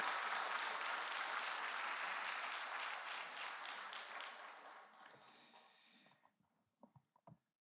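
A church congregation at a Sunday worship service claps in loud, sustained applause that gradually fades out, ending in a few scattered final claps.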